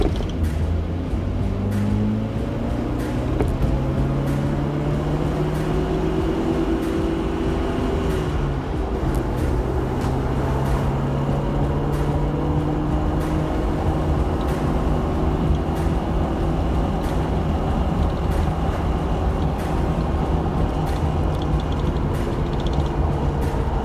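The supercharged 1.6-litre 8-valve engine of a Suzuki Vitara revs under load, its tones rising and falling in long sweeps over a steady drone of road and cabin noise, heard close with no talking.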